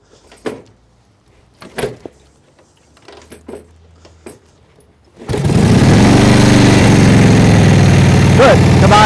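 A 1941 Harley-Davidson WL engine kicks over and catches, settling into a loud, steady running idle after several sharp mechanical clunks and kicks.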